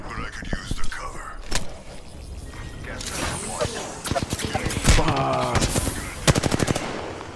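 Apex Legends firefight with rapid automatic gunfire in repeated bursts and single sharp shots, loud and close amid engine-like rumble and game noise, with players talking over it.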